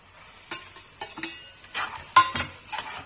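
Paneer goes into masala frying in a pan, giving a series of close, scattered clatters and stirring scrapes over a faint sizzle, with sharp bright hits near the end.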